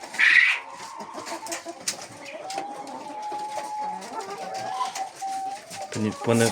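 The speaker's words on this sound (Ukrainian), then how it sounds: "Отак наші курочки поживають." Hens in a cleaned coop cluck and murmur at moderate distance, with brief flapping and scattered calls over a steady background, while someone talks throughout.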